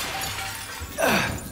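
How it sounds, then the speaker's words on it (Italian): A glass window pane smashed in the horror game Silent Hill 2, one sharp shattering crash with bright tinkling debris about a second in, heard over a low ambient game drone. "ma se spacco il vetro?"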